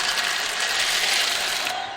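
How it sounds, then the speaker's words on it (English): Baby birds cracking out of their eggs make a dense, continuous ratchet-like crackling, loud and close, with no voices. "It was the sound of the baby birds coming out of their eggs."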